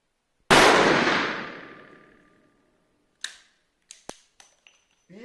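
A single sharp, loud report from a .357 Magnum revolver with a 6-inch barrel firing flat-point semi-jacketed CBC ammunition outdoors, with a long ringing decay and a few faint clinks afterward.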